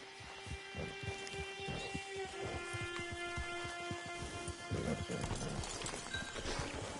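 Steady clip-clop of horse hooves trotting at an even rhythm in the video game Red Dead Redemption 2, with a low hum and faint ambient noise underneath.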